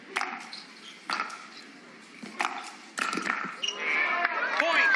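Paddle strikes in a professional pickleball championship match featuring Federico Staksrud, several sharp hollow pops about a second apart during a rally, followed by rising crowd noise, with a commentator speaking over it.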